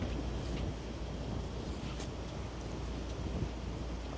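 Cold wind blowing across the microphone on a boat on the Seine in central Paris, a steady rushing roar with some lapping water beneath, no voices heard.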